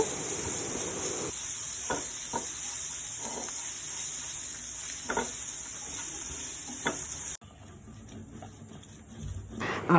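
Hilsa fish, onion and green chilli fry with pointed gourd in a pan, giving a continuous loud sizzle with occasional stirring scrapes, then the hiss drops away abruptly near the end, leaving quieter kitchen sounds.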